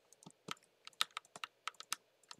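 Rapid mouse clicking during a Minecraft fight against a crowd of wardens: a fast, uneven run of about a dozen sharp, close clicks over a couple of seconds, with no speech.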